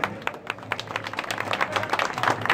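An audience claps at the inauguration of the Shivratri festival at a Baba temple, scattered moderate applause that thickens into a steady patter for a couple of seconds.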